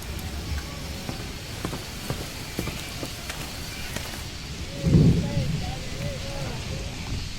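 Heavy rain in the Amazon rainforest pours steadily as a broad, dense hiss with scattered close drips and patters, punctuated by a brief louder thud midway, in a tropical forest setting without talk.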